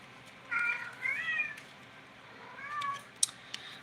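Indoor house cats meowing softly, with several drawn-out mews in a quiet room and a couple of faint clicks toward the end.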